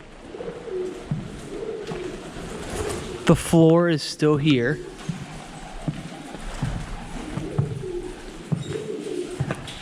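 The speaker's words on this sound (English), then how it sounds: "Look at all the birds." Pigeons inside an abandoned 1920s Victorian school coo and flutter close by, steady soft calls through the whole stretch, while a person speaks briefly partway through.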